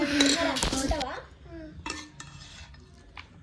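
Metal utensil scraping and clinking against a steel pot during home cooking, a few loud clattering strokes up front, then fainter intermittent scrapes and taps.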